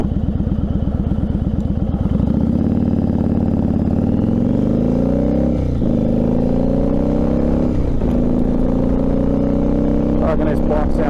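A Yamaha Virago motorcycle engine, heard while riding, idles with a steady lumpy throb and then revs and pulls through rising and falling engine tones, loud and close, with wind rush over it.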